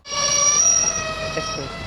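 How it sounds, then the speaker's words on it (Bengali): A train pulling into a station in Purulia, a high steady wheel squeal and ringing brake tones over a rumbling carriage, loud and close, slowly easing off. "ট্রেনটা দাঁড়িয়ে গেছে এবং ট্রেনে লোকজনও উঠছে"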